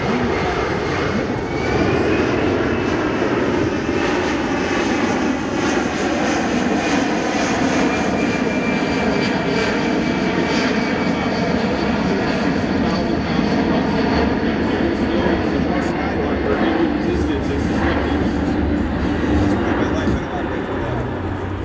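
A Boeing C-17 jet transport flies past at the 2009 California Capital Air Show in Sacramento, its engines a loud, steady, broad roar that holds for the whole stretch without pause.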